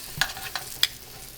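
Tomato cooks in a hot pan for steak pizzaiola, a soft background sizzle broken by three sharp metallic clinks and scrapes of a utensil against the pan.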